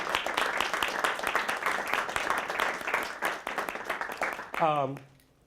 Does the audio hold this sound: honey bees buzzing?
no